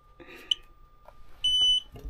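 A scooter fitted with a VESC controller gives off short electronic beeps, a faint blip followed by a steadier, louder tone lasting about a third of a second, against a quiet background hum.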